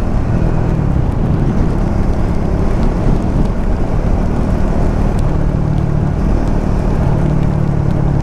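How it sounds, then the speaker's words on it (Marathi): Rain falling on a road, heard as a loud, continuous broadband hiss with a low rumble beneath it, steady throughout with no speech. "पाऊस आला, अशा रस्त्याला पाऊस नको होता।"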